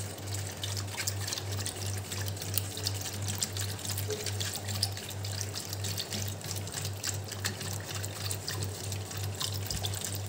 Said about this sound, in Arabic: نحط اللبن اهو، نفضل ندوب كده مع بعض اهو